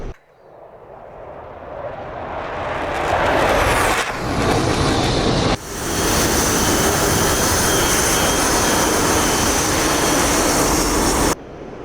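Mirage F1CE jet engine in the DCS flight simulator, a loud steady turbine roar with broad hiss filling the whole clip, briefly dipping around four and five and a half seconds before resuming at full strength.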